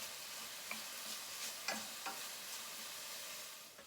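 Pancetta browns and crisps in a pan for bucatini all'Amatriciana, giving a soft, continuous sizzle with a few sharp pops and light ticks of stirring.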